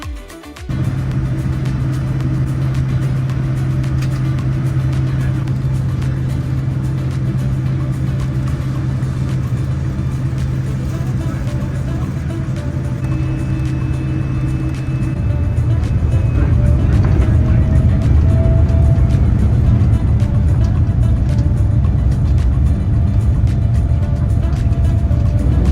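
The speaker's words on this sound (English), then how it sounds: "Soon we were taxiing for takeoff." A Japan Airlines jet taxis for takeoff on the Singapore to Tokyo Haneda route, heard from inside the business class cabin as a steady, loud engine drone with a low hum that deepens and grows rougher partway through.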